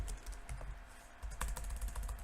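Rapid irregular typing on a computer keyboard, close and crisp key clicks in uneven bursts, heard alone without any voice.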